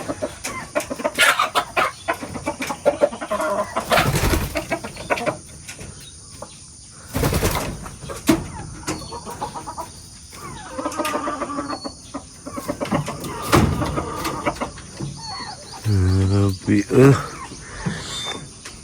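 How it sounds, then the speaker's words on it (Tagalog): Chickens clucking and flapping amid ongoing talk, with a burst of clucks near the end over a noisy background. "Daming manok."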